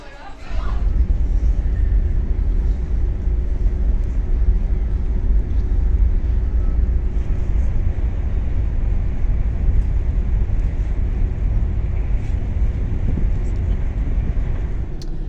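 Car rolling off the ferry at Cork, Ireland, a steady loud low rumble of engine and road noise that holds evenly throughout, close up with no talk.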